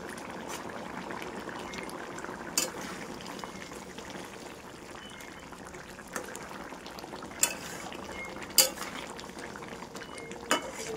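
Bhola fish curry simmers in a pan as a spoon stirs it gently, a soft steady bubbling bed broken by a few sharp clinks of metal against the pan.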